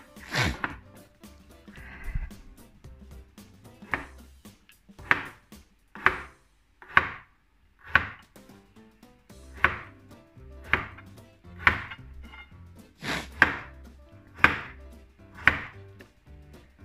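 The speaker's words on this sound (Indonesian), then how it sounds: "wortelnya sudah saya potong kecil-kecil" Carrots are chopped into small pieces on a cutting board, a steady series of about a dozen crisp knife knocks, evenly spaced and close, with faint talk early on.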